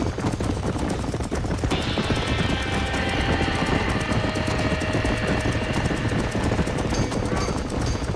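Horses panic inside a burning barn in the video game Red Dead Redemption, hooves clattering and stamping under a steady roar of fire and crackling noise, with a high whinny-like tone rising near the end.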